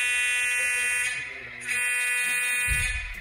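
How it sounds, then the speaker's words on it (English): A model train engine horn blares in a sustained, steady electronic tone, briefly dipping and resuming before a low thump at the end. "Let's hear what that horn sounds like."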